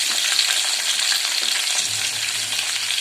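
Curry leaves, green chilies and onion with mustard seeds and cumin fry in hot oil for a bean sambar, giving a steady close sizzle and crackle with a light stir and no talking.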